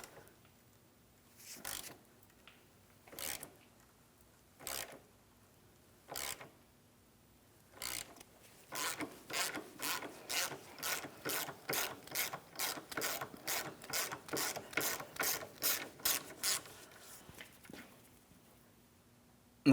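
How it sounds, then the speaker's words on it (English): A hand ratchet loosening a 10mm mounting bolt on a 2007-2014 Ford Edge rear upper control arm: a few separate clicking strokes, then a fast continuous run of rapid clicks, close and clear. "Let's start removing the one 10mm headed mounting bolt that I have here."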